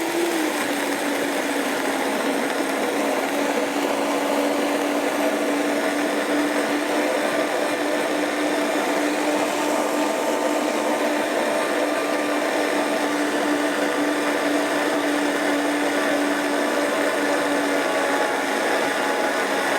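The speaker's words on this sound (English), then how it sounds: "So I just like to blend it long enough to make it real, so the dates are, fine and everything is real creamy" A blender whirs steadily and loudly with a high motor hum, blending dates and maple syrup into a creamy Christmas dessert filling, running without a break and with no talking.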